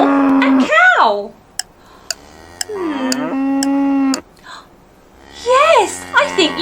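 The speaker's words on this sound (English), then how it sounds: "Oh, which animal makes that noise? Is it a horse or a cow?" A cow lets out several drawn-out, wavering moos separated by pauses, loud and close, with a few sharp clicks in the gaps.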